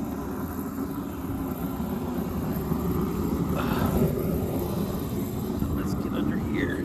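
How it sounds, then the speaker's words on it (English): A portable Ready forced-air heater runs steadily close by, a constant roaring whoosh that fills the whole clip, with a few faint clinks over it. "I've got my dad's Ready heater out here with me because it's about 20 degrees."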